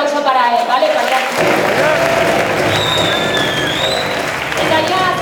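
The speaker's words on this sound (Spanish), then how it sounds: "os pido un fuerte aplauso para él" An audience at a horror film festival closing ceremony breaks into loud, sustained applause that swells after a moment and continues to the end, with a voice speaking over the clapping.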